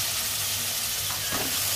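Green beans and new potatoes are stirred in a frying pan, giving a steady close sizzle with a brief scraping stir partway through.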